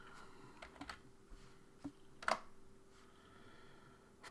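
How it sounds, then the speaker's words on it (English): Sparse typing on a computer keyboard, a handful of quiet, isolated clicks with one sharper keystroke midway, faint and close against low background hum. "when I try and type on my keyboard under pressure, it's just a disaster"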